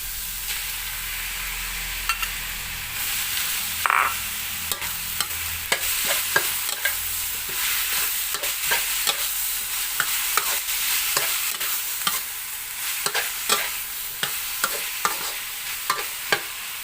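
Pork and tomato being stir-fried in a pan give a soft sizzle under a busy run of sharp spatula scrapes and clacks, repeating irregularly for several seconds, with no talk.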